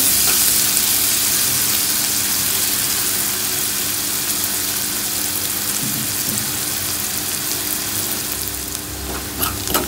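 Onions frying in a pan until reddish, a steady loud sizzle lasting throughout with no talk over it.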